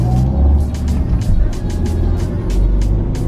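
Riding inside a moving car, a steady, loud low rumble of engine and road noise fills the cabin with faint recurring ticks and bumps on top, and no one speaks.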